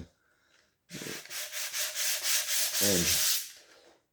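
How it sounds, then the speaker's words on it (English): Hand sanding guide coat off filler primer on a VW Beetle body panel, a close, steady rasping scrub with rhythmic back-and-forth strokes, continuous for about three seconds after a quiet start. "rub all of the outer surface and rub the whole thing until the guide coat disappears"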